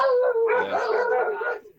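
A dog gives a drawn-out howl that breaks into a rougher barking yowl, close and fairly loud, lasting under two seconds and fading at the end.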